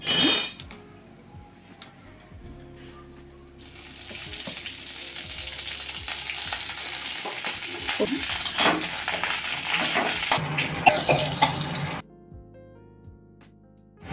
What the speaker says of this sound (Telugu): ఫస్ట్ కొంచెం వేయించుకుందామండి పల్లీలని పచ్చిమిర్చిని ఒక స్పూన్ ఆయిల్ వేద్దాం